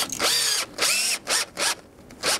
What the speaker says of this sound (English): So I'm going to drill a hole for my lag screw.